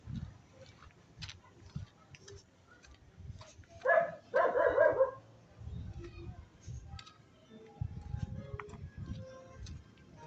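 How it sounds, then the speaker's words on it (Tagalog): A dog barks a few times in a short burst midway, somewhat distant, with quiet talking and background noise around it. "Yun na po yung aso."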